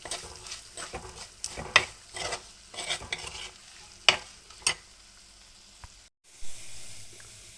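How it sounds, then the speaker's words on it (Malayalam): Chili powder frying in a pan while a spoon stirs it, giving close, soft sizzling with irregular scraping strokes and a few sharper knocks, then a short pause before the stirring resumes. "നല്ലതായിട്ട് മൂക്കുന്നോടം വരെ ഇളക്കാം"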